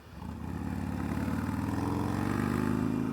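A 2019 Harley-Davidson Roadster engine rumbles close by with a deep, uneven throbbing beat, building slightly in loudness as it revs up.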